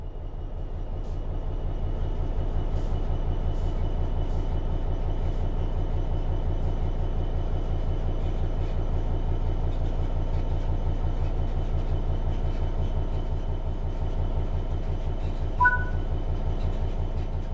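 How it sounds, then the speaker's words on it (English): Train in Train Sim World 3 pulling away under throttle, a steady low rumbling drone of traction motors and rolling wheels that swells slightly and holds, with a brief high tone near the end. "Apply some throttle to get the train moving."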